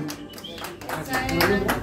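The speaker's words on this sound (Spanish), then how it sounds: "Y ese aplauso muy bonito." Audience at a mariachi birthday performance claps in a brief burst of scattered applause, growing denser toward the end, close and moderately loud.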